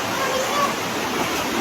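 Rushing floodwater during a typhoon in the Philippines, a steady, loud broadband roar like a torrent that runs continuously throughout without pause.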